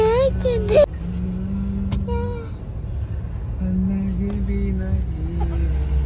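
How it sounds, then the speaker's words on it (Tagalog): Car traffic on a congested city road in Japan, engines idling and slowly moving nearby with occasional revs and passing vehicles, under people talking close by. "Tapos traffic."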